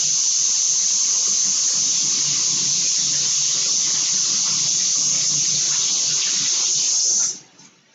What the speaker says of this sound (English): I'm going to go ahead and rinse them off just to make it a little easier to finish up our dough